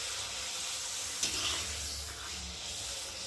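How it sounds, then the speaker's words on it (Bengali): Small papads frying in hot oil in a wok at home: a quiet, continuous close sizzle with a brief crackling burst partway through, heard alone. "তো দেখো এখন পাঁপড় ভাজছি"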